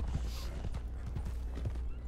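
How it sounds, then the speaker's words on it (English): A horse in the Red Dead Online video game clip-clops with steady hoofbeats and gives a whinny, the hooves thudding in an even rhythm throughout. "Let's feed the horse."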